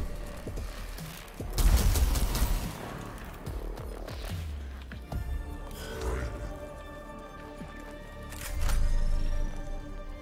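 Gunfire strikes an enemy in Warhammer 40,000: Mechanicus, with loud crackling bursts around the second and eighth seconds over a rumbling battle backdrop.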